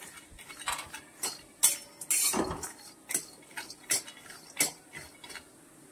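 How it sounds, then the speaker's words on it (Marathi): Coconut slices dry-roasting in a pan with no oil for Marathwada-style kala masala, heard as a run of sharp scraping and clinking strokes of a spatula against the pan, close and irregular, with no talking. "मस्त असं खरपूस भाजून घ्यायचं आहे"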